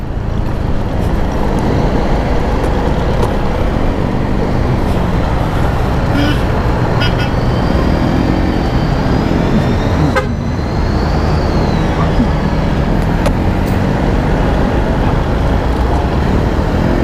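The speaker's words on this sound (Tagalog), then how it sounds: "Medyo ma-traffic kahit linggo." Busy Sunday road traffic on Commonwealth, a dense continuous roar of cars and buses up close, broken by several horn toots and a sharp honk near the middle.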